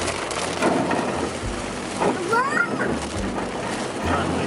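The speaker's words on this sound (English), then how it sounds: "this is seriously a ton of rain" Heavy rain pours down while a vehicle drives through deep floodwater reaching halfway up its wheels, giving a dense, steady wash of hissing and splashing noise with scattered knocks and a brief voice in the middle.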